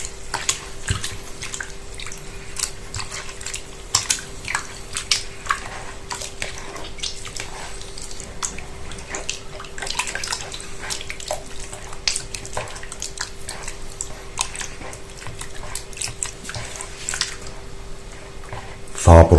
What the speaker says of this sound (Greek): θα διαλύσουμε το προζύμι μέσα στο νερό